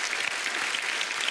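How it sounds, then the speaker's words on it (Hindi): A studio audience on a comedy talk show breaks into full, dense applause, a loud continuous wash of many clapping hands lasting just over a second, with no talking over it. "तालियां फॉर मिजान"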